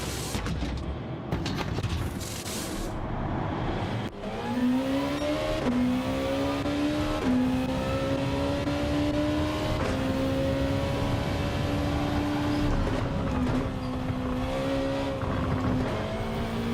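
A race car in Gran Turismo 7 pulls out of the pit lane, its engine note rising and stepping through gear changes over a steady loud drone, with faint tyre and ambient noise underneath.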